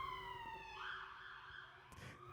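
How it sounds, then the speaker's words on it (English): A police siren wails steadily in the distance, its rising and falling tone sustained throughout with a faint background hum and no voices. "It's a very comforting police siren vibe."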